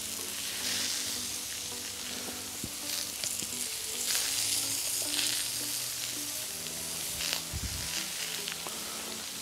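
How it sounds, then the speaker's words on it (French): Scallops sear on a hot brazier plancha outdoors, giving a constant bright sizzle with scattered pops and light scraping of a utensil. "je vais venir finir avec mes noix de Saint-Jacques en fait directement sur mon brasero ici"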